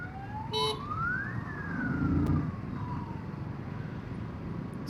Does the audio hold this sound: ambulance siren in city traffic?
yes